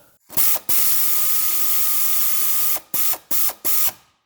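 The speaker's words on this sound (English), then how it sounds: "how much calmer it is to do this sort of job with an air ratchet versus an impact gun" An air ratchet whirs in a quick short burst on a stabilizer link nut of a 2002 Honda CR-V, then runs steadily for about two seconds, followed by three brief spurts.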